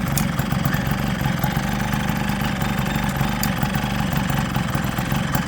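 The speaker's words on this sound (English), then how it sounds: "Normally I give the throttle a little blip, make sure it drops back down to idle." Motorcycle engine idling steadily at close range, a low, even mechanical rumble with fine ticking; any throttle blip is subtle, settling back to a constant idle.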